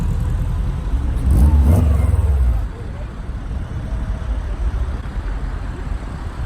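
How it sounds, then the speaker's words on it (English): Car fitted with a Subaru H4 flat-four engine revving hard for a couple of seconds with a deep rumble, then dropping back to a lower idle-like drone, loud and close. "rev that up for me"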